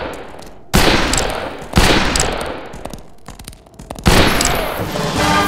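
Gunfire in the Western shooter game Fistful of Frags: several loud, close shots ring out in separate bursts, each with a booming echoing tail, among some quieter clatter between them.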